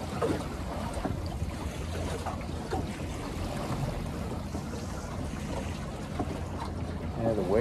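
Out on open water aboard a sailboat, a steady rush of wind and water noise fills the air as another boat approaches from behind, a continuous low roar without clear breaks.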